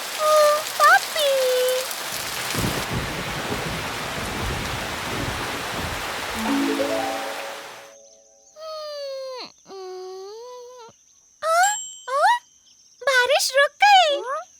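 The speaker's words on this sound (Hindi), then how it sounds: "बारिश होने लगी।" Cartoon rain falls as a dense hiss of droplets in a cartoon scene for several seconds, mixed with squeaky animated voices before and after, then stopping abruptly as chirpy cartoon sounds and sweeping whistles follow.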